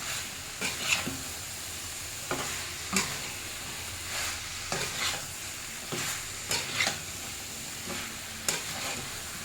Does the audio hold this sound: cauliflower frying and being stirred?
yes